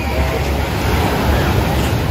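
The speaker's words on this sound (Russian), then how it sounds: "Волны успокоились маленечко." Continuous roar of Black Sea surf at Alushta after a storm, loud broadband rush with no distinct breaks, like waves rolling onto a nearby shore.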